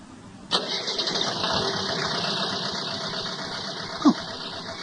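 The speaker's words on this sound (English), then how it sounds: "At that moment, Marcel hears a motor start." A car engine cranks and catches with an abrupt start, then settles into a steady mid-pitched running drone for several seconds, ending with a short louder bump near the end.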